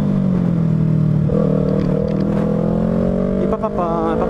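A Yamaha YZF-R3 sport motorcycle engine revving hard and climbing in pitch, loud and close, with a voice speaking briefly over it.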